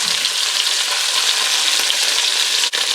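Pieces of short rib browning in a pan, a steady close sizzle and crackle of searing meat that runs unbroken throughout, with one brief dip near the end.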